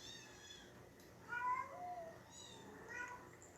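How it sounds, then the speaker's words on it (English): Small kittens meow indoors, quiet and somewhat distant. A few short, high, plaintive mews come in separate bursts over a soft background hiss. "You can hear the little kitties."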